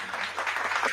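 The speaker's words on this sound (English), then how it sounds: "with a big round of applause, will you welcome our guest tonight" Studio audience applause welcoming a guest on an interview show, a brief stretch of dense, steady clapping, soft and somewhat distant.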